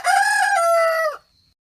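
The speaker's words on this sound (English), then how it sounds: "the cock, being awakened, and made quite lively by the noise, called out from the hen roost," A rooster crows once, loud and close, a single long cock-a-doodle-doo that ends abruptly, heard alone with no talking.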